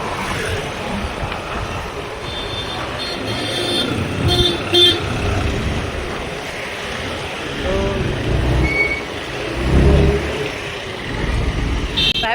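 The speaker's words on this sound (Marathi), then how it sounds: "ट्रॅफिक एकदम फुल चक्का जाम आहे." Traffic jam on the road near Lonavala during the flower festival, with car horns tooting now and then over idling engines and road noise, and people talking.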